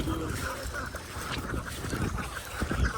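A flock of ducks quacks in a flooded paddy field, with a steady jumble of calls and honks over broad outdoor background noise, fairly loud and continuous.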